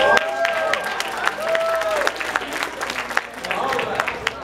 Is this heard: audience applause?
yes